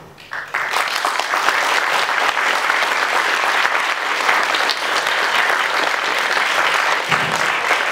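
An audience claps enthusiastically at a CD launch concert in a cultural hall, loud dense applause starting abruptly and sustained evenly for several seconds, with no voices.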